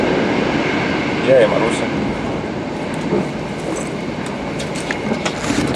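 A passenger train from the airport fills the carriage with a steady, loud rumble and rushing noise, with a brief voice speaking over it.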